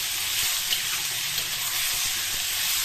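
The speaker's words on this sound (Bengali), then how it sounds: "এটা একটু ভালো ভাজা ভাজা হবে ভালো করে তারপরে পোস্ত বাটাটা দিয়ে দেবো" Potatoes fry in a pan with turmeric for Bengali aloo posto, a steady, close hiss of sizzling oil running evenly throughout with no talk.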